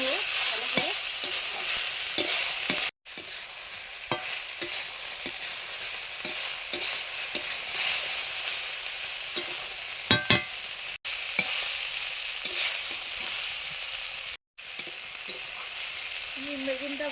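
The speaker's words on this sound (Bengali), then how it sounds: "নিম পাতাগুলো ভেজে নেওয়ার পরে ভেজে রাখা বেগুনগুলো দিয়ে মিশিয়ে নেব ভালো করে।" Neem leaves stir-fried together with previously fried eggplant in a pan, a steady sizzle with scraping spatula strokes and occasional clanks running continuously, with no talking.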